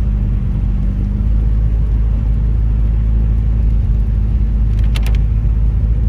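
A car climbs a snowy mountain road in steady snowfall, its engine a constant low rumble with road noise filling the whole stretch, with a brief faint clink near the end and no talking.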